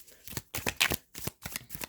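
Tarot cards being shuffled by hand in quick riffling bursts, about five short crisp rustles in a loose rhythm, close and fairly quiet with no talking.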